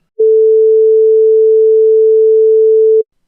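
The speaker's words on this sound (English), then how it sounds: "So we have a bass tone." A single pure low sine tone, a steady bass sinusoid starting abruptly and holding at constant loudness for about three seconds before cutting off cleanly.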